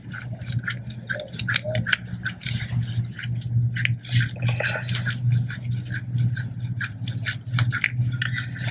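A grease gun pumps grease into an RV wheel bearing, making rapid, repetitive clicking and squishing strokes, close and moderately loud over a low steady hum, with no talking.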